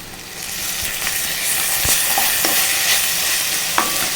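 Ginger garlic paste frying in a pan with ivy gourd, a steady close sizzle running throughout with a few sharp spoon clinks and scrapes of stirring, no voices.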